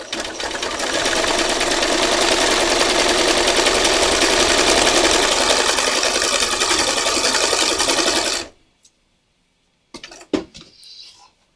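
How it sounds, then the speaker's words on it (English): A sewing machine runs steadily for about eight seconds of continuous stitching, then stops abruptly, followed by a few soft handling clicks in near silence. "you can just watch as I stitch"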